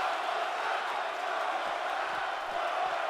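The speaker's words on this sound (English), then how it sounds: "Crowd is chanting one more time." Steady, dense crowd noise from a wrestling video game (WWE 2K) during a hardcore championship match, a broad roaring chant that holds evenly loud throughout with no pauses.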